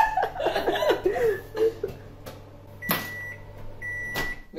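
A microwave oven hums steadily, then stops with sharp clicks and a bright electronic beep that repeats, with brief laughter and light movement sounds at the start.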